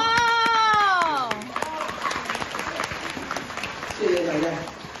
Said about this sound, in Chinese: 一报你的名字，底下那么多人鼓掌